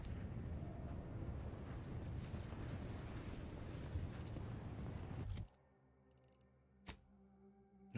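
Grenade explosions in a video game make a loud, rumbling eruption that holds for several seconds and then cuts off abruptly. A faint mechanical tick and a short thump follow in the quieter tail.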